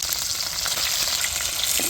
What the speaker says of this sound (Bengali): তেল গরম হয়ে গেছে আর মুরার গোস্তগুলো ভাজি নিম